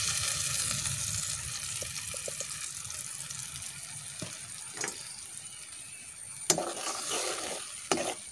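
Ground jackfruit sizzles and fries in ghee for kesari bath, a steady soft crackle with occasional stirring clicks and scrapes of a spoon against the pan, no voices over it.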